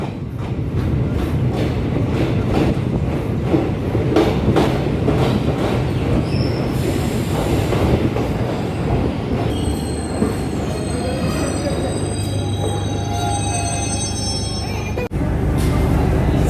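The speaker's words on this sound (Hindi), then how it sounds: "अपनी ट्रेन आ चुकी है यहाँ पे।" Train at New Tinsukia railway station in Assam, India, loud and continuous rumble of rail cars rolling past with clanking and high wheel squeals, close by, without speech.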